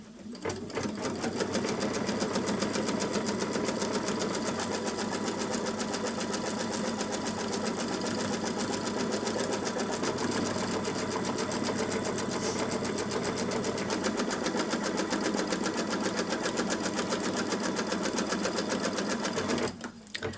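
An embroidery sewing machine stitches an outline on a quilted mug rug, a continuous fast mechanical whirring and needle clatter held at an even level for about twenty seconds before stopping abruptly at the end.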